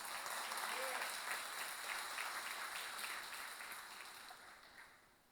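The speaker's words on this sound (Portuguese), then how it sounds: "Quem assim crê, aplauda bem forte a Jesus" Church congregation applauding during a sermon, a steady wash of clapping from a large room that fades out toward the end, fairly distant and soft.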